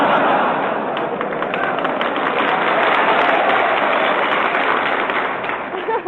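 A studio audience at a 1944 Bob Hope radio show with Ginger Rogers applauds steadily, a dense, sustained wash of clapping heard through a narrow, old broadcast-quality recording.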